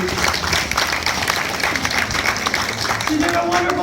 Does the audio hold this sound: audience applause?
yes